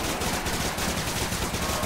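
A FAMAS rifle fires in Call of Duty Zombies, rapid repeated gunshots in a steady automatic stream, moderately loud with game noise underneath.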